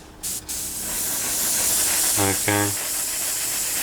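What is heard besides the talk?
spray coat on Tamiya Spitfire scale model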